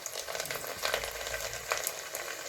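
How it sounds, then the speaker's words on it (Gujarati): Garlic fries in hot oil for a Gujarati tempering, giving a steady, soft crackling sizzle with scattered faint pops, close by and uninterrupted. "આ લસણને આપણે વઘાર લસણથી કરવાનો છે"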